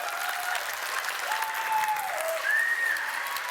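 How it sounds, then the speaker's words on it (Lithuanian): A studio audience at a quiz show claps steadily and fairly loudly throughout, with a faint tonal sound running underneath. "Viskas, pradedam plojimais."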